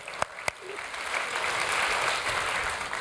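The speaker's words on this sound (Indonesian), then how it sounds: "boleh tepuk tangan lagi, boleh" A Sunday service congregation breaks into applause, with two sharp claps at the start followed by a swelling, steady wash of clapping from a crowd.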